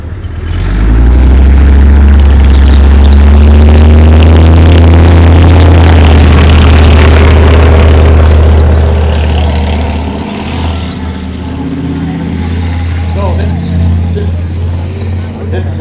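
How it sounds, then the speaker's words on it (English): A Leopard tank's powerful engine rumbles loud and close at a tank show, a heavy steady low roar that eases somewhat after ten seconds, with crowd noise and talk underneath. "That's because the Leopard engine is actually shaking the air around the tank."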